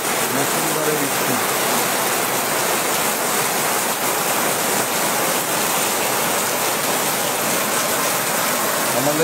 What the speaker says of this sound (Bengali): মুষলধারে বৃষ্টি।